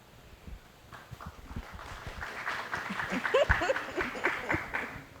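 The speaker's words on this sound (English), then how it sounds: "You don't have to clap for me." A panel audience at a music-industry discussion on mental health starts clapping. It begins as a few scattered claps and builds into a fuller burst of applause, faint to moderate, with a voice audible beneath it.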